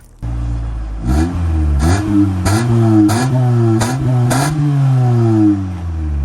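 A Toyota car engine, smelling of burning oil, revs loudly and close up, climbing in several quick bursts before settling into a steady idle.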